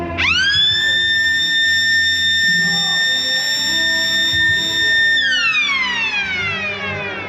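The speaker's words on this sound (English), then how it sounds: "siren would go off, people would adjust the watches, because they knew it was 1 o'clock" Sheffield's one o'clock time signal siren rises quickly to a loud, sustained wail, holds for about five seconds, then winds down in a falling glide, with faint crowd chatter underneath.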